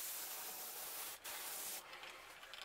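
Airbrush spraying paint onto a crankbait lure at low pressure, a soft, steady hiss with brief pauses where the trigger is released, faint and close without talking.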